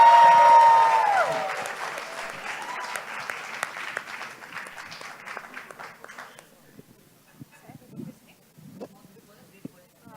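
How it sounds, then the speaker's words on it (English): A conference audience at a panel session in Jogja breaks into loud applause right after a voice on the sound system. The clapping then thins and fades to scattered claps over about ten seconds. "I want to hear a loud round of applause."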